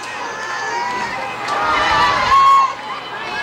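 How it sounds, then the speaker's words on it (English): Crowd murmur and stirring in the stands at a Sioux City baseball game, a steady babble of voices with a brief swell of cheering, under talk. "Crowd stirring a little bit, trying to help get something going."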